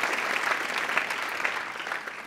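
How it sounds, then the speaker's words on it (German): An audience in a Baden-Württemberg state parliament setting applauds a participant, dense steady clapping from many hands filling the room without speech. "Also nochmal einen ganz herzlichen Applaus für Larissa."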